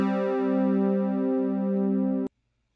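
A BeepBox hum instrument preset sounds a sustained, buzzy harmonic synth tone with gentle pulsing beats, holding steady for just over two seconds and then stopping abruptly.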